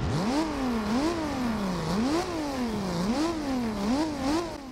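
A turbocharged Nissan 240SX SE drift build in Forza Horizon 2 revs up and down repeatedly in a rhythmic pattern, its pitch rising and falling with each shift, loud and synthetic-sounding with a turbo whine.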